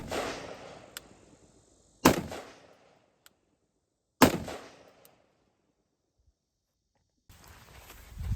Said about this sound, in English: We're going to be taking 3 shots to confirm 0 on target